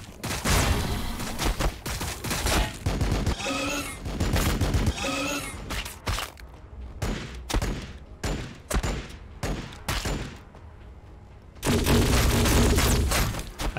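Heavy gunfire and explosive booms in the video game Warhammer 40,000: Battlesector, with dense sustained volleys, then a sparser run of sharp separate shots, and a loud renewed barrage near the end.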